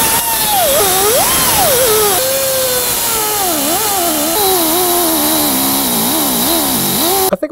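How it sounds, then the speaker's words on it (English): A cutoff wheel grinds into a GMT400 truck's front end, a loud continuous whine that rises and falls in pitch as it bites and eases, running unbroken for several seconds before cutting out. "are my cutoff wheels giving out on me?"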